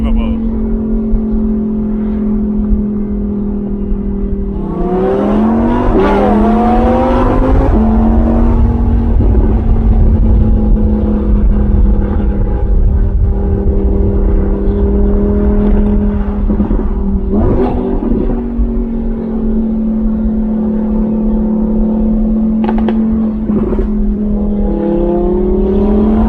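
Lamborghini cars, including a Miura, driving past one after another with engines revving, a continuous loud drone of engine tones rising and falling in pitch through several passes, with voices talking underneath.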